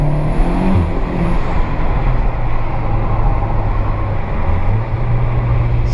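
Engine of a Golf MK4 GTI pulling steadily under acceleration with a droning, sustained tone, rising in pitch as it shifts through the gears.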